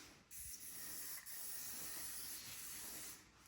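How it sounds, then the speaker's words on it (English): Hair shine spray hisses in a steady, continuous burst for about three seconds during a salon pixie-cut finish. It is close and fairly quiet, with no talk over it. "Then I'm gonna just finish it with the shine spray."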